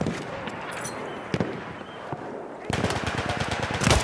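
Enemy machine gun fire in Battlefield 1 crackles in scattered shots at first, then breaks into a dense rapid burst of rattling gunfire toward the end, with battle noise throughout.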